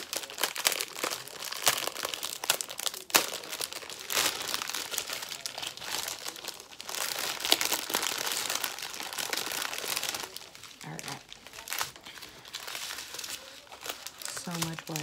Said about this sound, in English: if you don't like the crinkling, give me a couple minutes